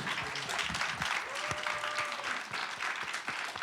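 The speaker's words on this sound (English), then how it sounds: "give him a round of applause" An audience at an anti-war committee panel applauds steadily throughout, a dense sustained wash of clapping from a moderately distant crowd.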